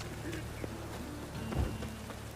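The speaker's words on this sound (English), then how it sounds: "It's raining again." Steady rain falls in The Witcher 3 game world, a faint continuous hiss with scattered drop patter and a low rumble swelling briefly.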